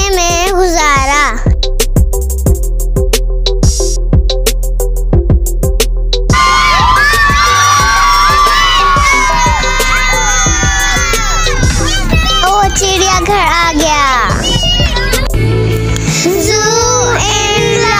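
Crowd of schoolchildren shouting and cheering together on a trip to Lahore Zoo, loud and continuous with whoops over steady background music, a lively din throughout.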